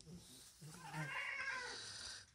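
A cat gives a single drawn-out, close meow with a rising and falling pitch, heard alone in a quiet room.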